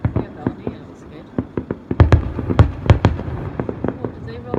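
Fireworks display at the 2016 Jersey Battle of Flowers: a rapid series of sharp bangs and cracks, sparse at first and then thicker and louder, heard outdoors with people's voices in the background.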